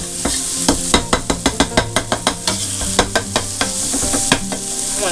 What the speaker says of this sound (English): I've got my pork fried off.